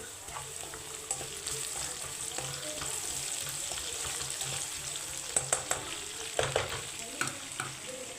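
Onions frying in a home kitchen pan until brown, giving a steady broadband sizzle with occasional stirring scrapes and a few sharper clinks near the end, moderately close.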